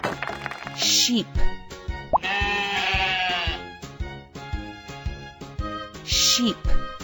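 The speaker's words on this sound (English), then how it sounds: "Sheep." Sheep bleat loudly and up close in a few drawn-out cries, with plopping sound effects and music between them.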